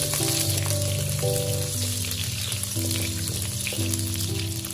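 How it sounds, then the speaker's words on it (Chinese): Ginger and scallions stir-fry in a little lard in a hot wok with a loud, continuous sizzle that stays steady and close, with no voices. "接下来往锅里加入少许的猪油，然后把姜和葱倒下去炒香。"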